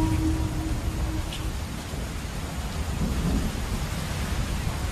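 A thunderstorm with rain in a village setting, a dense, continuous roar of downpour with low rumbling thunder underneath, loud and steady throughout.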